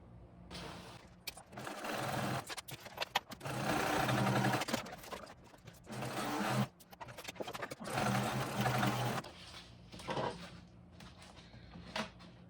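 A sewing machine stitches around a backpack in bursts of fast, steady whirring, pausing briefly between runs, close and fairly loud.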